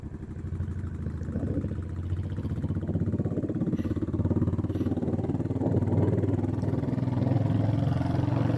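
A motorcycle rides through the town streets of Stornoway, its engine droning steadily and rising slightly in pitch as it goes, with wind rumble throughout and no talk.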